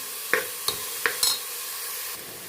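Ingredients being sautéed in a pan for beef curry, with a steady low sizzle broken by four or five sharp scraping stir strokes of a spoon against the pan, close and without talk.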